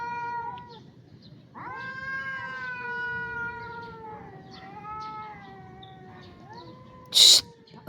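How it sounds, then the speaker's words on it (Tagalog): Cats yowl and caterwaul in a fight near a garden of chili and papaya plants, long drawn-out wavering cries overlapping for several seconds, ending with a short sharp burst. "Ito mga pusa na to, away ng away ah."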